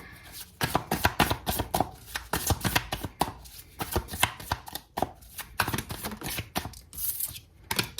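Tarot cards being shuffled and handled at close range, a quick run of crisp riffling taps and slaps in irregular bursts with no talking.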